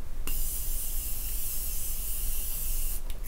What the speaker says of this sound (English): setting everything in place with my favorite setting spray. This is the Morphe Continuous Setting Mist.